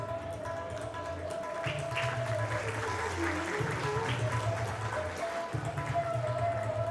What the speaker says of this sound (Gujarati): તાળીઓનો ગરગડાટ અટકી જાય છે